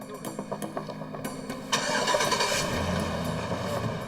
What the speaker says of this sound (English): Finally, the pickup roared to life and the men took off.